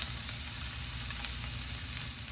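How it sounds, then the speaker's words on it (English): Onions hit a hot oiled pan and sizzle in a constant, close, even hiss with faint crackles, and nothing else is heard. "Next, I'm going to add my onions."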